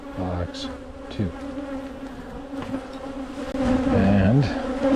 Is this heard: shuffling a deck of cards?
no